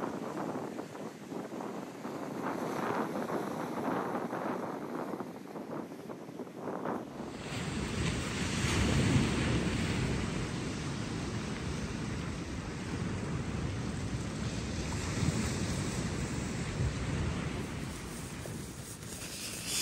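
Sea waves wash onto the shore of Cyprus in a continuous roaring surf mixed with gusty wind noise. The sound grows suddenly louder partway through and stays loud and close, with no voices.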